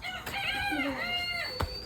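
Chickens cluck and a rooster crows loudly and close by in a backyard coop, a drawn-out crow rising over scattered clucks, with faint voices in the background.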